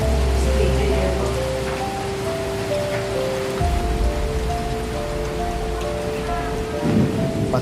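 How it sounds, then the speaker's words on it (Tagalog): Heavy rain pours steadily and close, with a deep roll of thunder at the start and a low rumble that returns partway through. "Lakas na naman yung ulan."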